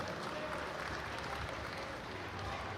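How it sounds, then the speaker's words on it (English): An audience applauds a powerlifter at a collegiate nationals meet, a dense, steady wash of clapping that sounds fairly distant and soft, with crowd murmur mixed in. "Somebody clap their hands now for Tyler Barrett."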